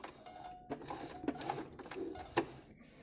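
Sewing machine stitching a seam along the cut edge of a small fabric pouch, set to a 3.5 stitch length: a close, steady mechanical whir with rapid needle clicks that runs for about three seconds.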